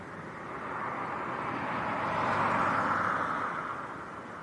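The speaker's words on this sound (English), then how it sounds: "So this is Ryanair from Lanzarote." A Ryanair airliner at Leeds Bradford Airport during a storm, a steady broadband jet roar that swells and fades as it passes at a distance.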